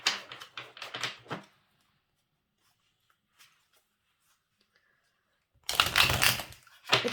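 Two bursts of crisp, rapid papery riffling of tarot cards being shuffled up close, separated by a few seconds of near silence.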